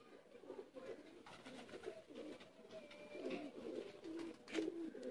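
Kamagar pigeons coo softly in repeated low, throaty phrases, close but faint, with brief higher chirps and light background rustle.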